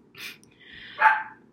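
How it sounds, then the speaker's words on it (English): A dog barks indoors, two short barks about a second apart, the second louder, heard alone over a quiet background. "Excuse my dog, sorry."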